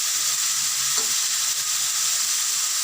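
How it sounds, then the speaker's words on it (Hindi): A chicken macaroni mixture fries in a pan with a steady, bright sizzle, and a brief scrape of stirring near the start cuts through the crackle. "अब हम इसको अच्छे से मिक्स करके और फ्राई करेंगे"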